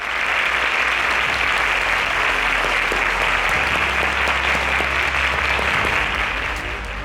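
Loud, dense applause from the audience at a student quiz competition grand finale fills the whole stretch, steady and unbroken over a low hum.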